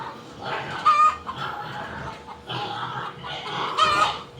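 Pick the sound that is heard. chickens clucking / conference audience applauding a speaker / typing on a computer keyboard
chickens clucking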